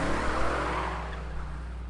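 A truck in the video game Digimon Story Cyber Sleuth skids with screeching tires as it nearly hits someone, a loud broadband rush that fades slightly toward the end.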